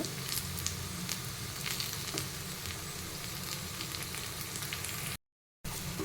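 Rava vegetable paniyaram frying in oil in the cups of a paniyaram pan, a steady close crackling sizzle that stays even and continuous, with a short dropout near the end.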